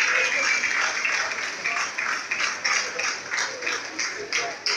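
Applause for a new baccalaureate graduate at a welcome ceremony, a moderate crowd clapping in rhythmic waves that swell and ease over a few seconds, with faint voices underneath.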